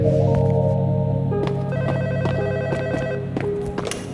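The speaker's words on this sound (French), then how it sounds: "Le téléphone." A telephone rings inside the Roblox horror game MEG Endless Reality, a steady electronic ringing heard over a continuous droning game ambience, fairly loud throughout with no talking.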